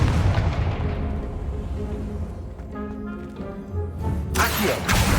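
A Confringo spell explodes in a Hogwarts video game, a loud booming blast with a rumbling tail over background music, followed by a sharper burst near the end.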